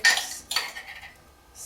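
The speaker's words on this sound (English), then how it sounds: "8 spoons of caster sugar, which you sieve through." A metal spoon taps and scrapes sharply against a sieve as caster sugar is spooned in, two crisp clinks followed by a faint rattle.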